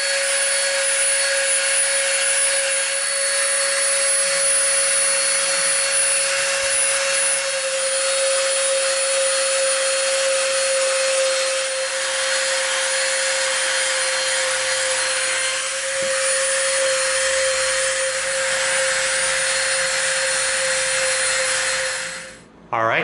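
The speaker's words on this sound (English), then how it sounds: "we're going to come in with our Dremel, with our sanding bit" A Dremel rotary tool with a sanding bit rounds off the edges of EVA foam, a steady high-pitched motor whine running loud and close for over twenty seconds before cutting off at the end.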